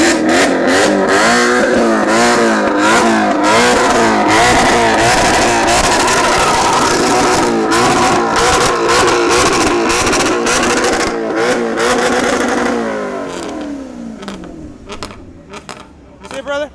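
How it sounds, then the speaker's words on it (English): Exotic sports car engine revving hard in repeated rising and falling bursts, loud and close, before cutting back to a quieter idle with a few brief blips near the end. "you might as well pull both paddles and rev it up a little"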